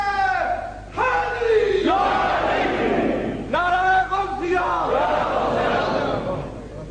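A rally crowd loudly chanting slogans in call-and-response, drawn-out shouted phrases repeated in several strong waves, near and forceful.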